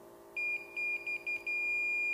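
A gas detector beeps after passing its first 10% LEL alarm threshold. It sounds a steady high-pitched electronic tone broken into a rapid stutter of short beeps, then holds continuously, close and clear over a low background hum.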